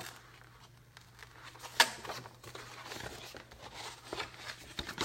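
Paper being cut on a Cutterpillar Crop paper cutter: soft crinkling and rustling strokes with one sharp snap near the middle, close and moderately quiet, with a brief spoken word.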